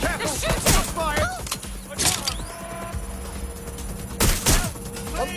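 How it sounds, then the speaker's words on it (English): Gunfire in the video game Watch Dogs Legion: loud bursts of shots crack repeatedly over a dense, continuous bed of game noise, with voices calling out among the shots. "Taking fire. Go to find cover! They're shooting!"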